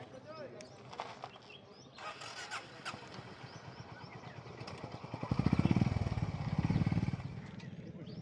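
A large group of about fifty motorcycles from a Bangalore riding club climbing onto a lake embankment, engines building from a steady rumble under chatter to a louder close pass, then easing.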